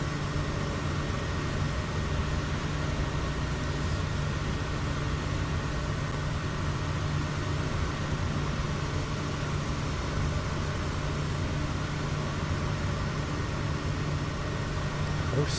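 A Kodiak 100 propeller aircraft engine drones steadily in Microsoft Flight Simulator, a constant loud hum with fixed tonal lines and no breaks throughout, with no voices.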